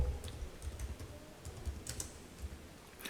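Typing a folder name on a laptop computer keyboard, a quick run of soft, close key taps at an uneven pace, with no talking.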